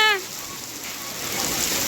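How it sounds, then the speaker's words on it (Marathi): Heavy rain falls steadily in a dense, even hiss that grows slightly louder toward the end, after a brief voice at the start. "लय पाऊस ऐकू यायला"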